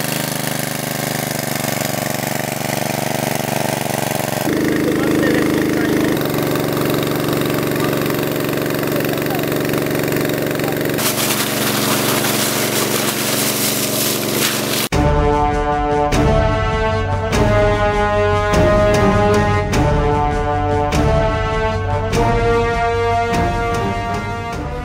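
A water pump engine at a fish farm runs loudly and steadily for the whole stretch, with a steady mechanical drone that turns harsher and more rhythmic midway, and no talking over it.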